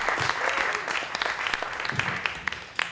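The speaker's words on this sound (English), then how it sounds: "Another huge round of applause for Catherine" Audience at a spoken word poetry night claps in a brief, moderately loud round, the sound thinning into a few distinct individual claps near the end.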